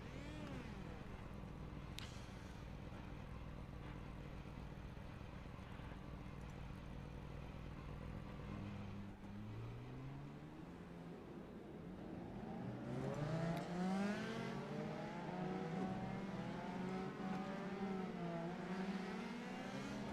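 Race car engines in the iRacing sim on a one-mile oval drone at low revs, then climb into overlapping rising whines as the field rolls off, getting louder toward the end, with no talk.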